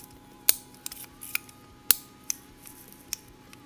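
Cylinder of a Heritage Rough Rider single action .22 LR revolver being turned: a handful of crisp, light metallic clicks at irregular intervals, close and quiet, with no talk.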